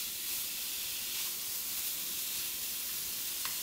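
Ground beef sizzles in a pan with a steady, dense hiss that holds evenly throughout, close and moderately loud, with no voices over it.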